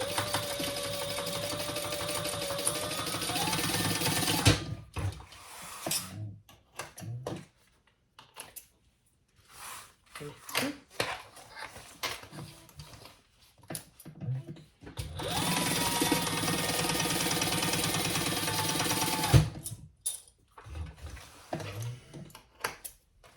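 A sewing machine basting fabric runs in two long, steady bursts of rapid stitching, with quieter handling sounds and pauses between them.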